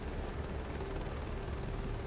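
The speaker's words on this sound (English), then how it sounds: "Love flying around these mountains with a helicopter." Helicopter rotor and turbine drone in Microsoft Flight Simulator 2024, flying over mountains; a steady, dense broadband whir with a faint high whine, continuous and even throughout.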